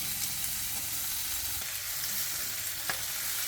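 Leafy greens fry in butter in a pan with a steady, close sizzle and crackle, a few sharper pops and a faint utensil clink rising from the hiss.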